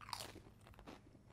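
Crisp crunching and chewing of a salty, lightly spicy chicken-flavoured snack, close and quiet. A few sharp bites give way to softer mastication, with no talking.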